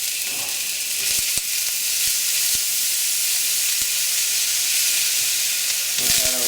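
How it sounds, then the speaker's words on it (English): Ginger and garlic dropped into hot oil give a loud, continuous sizzle close up, with a few sharp ticks and scrapes of stirring running through it and no talk. "All right, oil's hot. Put our ginger and garlic in here."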